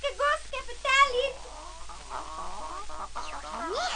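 Farmyard fowl calling, ducks, hens, geese and roosters, with a few clucks and quacks rising over a voice that talks across most of the moment.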